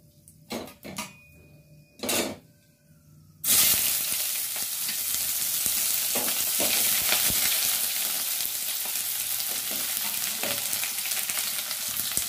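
A few clinks and scrapes of a pan, then chopped onions land in hot oil with cardamom, cinnamon, shahjeera and bay leaf and break into a loud, steady close sizzle that carries on with occasional stirring clicks.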